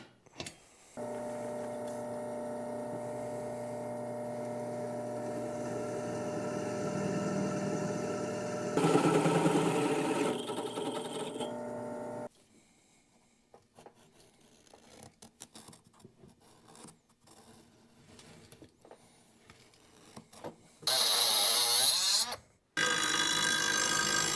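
A loud power tool grinds and whines for several seconds cutting a steel arm for a grapple, then stops; scattered clanks and handling noises follow, and a high-pitched cutting burst ends it.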